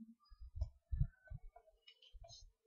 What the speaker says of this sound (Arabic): بنبدا نضغط على الرابط اهوت، جالي الرابط ببدا اضغط عليه